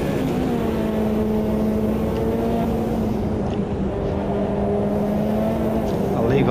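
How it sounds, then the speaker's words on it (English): A GTO mod race car in the Automobilista 2 racing game gives a steady, droning engine note with sustained harmonic tones that hold at a constant pitch throughout, fairly loud and continuous. "Don't know if you can hear this car, but it sounds absolutely"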